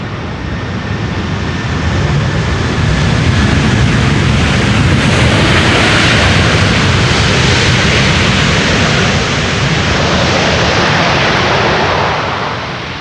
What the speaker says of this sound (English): leave it to Delta to be throwing around those reversers